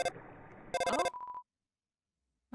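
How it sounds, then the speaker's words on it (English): A telephone rings in the Undertale video game, a short burst of bright electronic ringing over game music that cuts off into silence before another sound starts at the end. "Phone's ringing."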